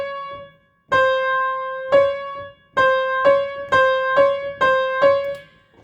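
Piano plays a two-note theme a minor second apart, a handful of struck notes repeating in a slow then quickening rhythm, clear and close with silence between strikes.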